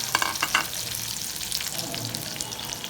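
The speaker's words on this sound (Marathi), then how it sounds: "ह्याला आपण थोडंसं परतून घेऊया." Potatoes and coriander sauté in a pan for sabudana khichadi, giving a steady close sizzle with a few sharp utensil clinks near the start.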